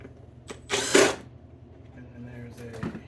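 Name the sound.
power screwdriver removing mounting plate screws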